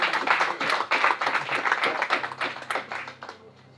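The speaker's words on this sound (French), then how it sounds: "On peut les applaudir." Audience applause at a live magic show: a dense crowd of hands clapping steadily for several seconds, then thinning and tapering off near the end.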